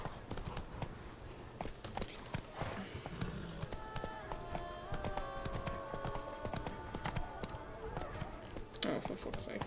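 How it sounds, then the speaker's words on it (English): In The Witcher 3, the horse Roach gallops with a fast clip-clop of hooves under game music and ambience, fairly quiet and steady, with someone talking over it. "Come on, horse, up the fucking hill."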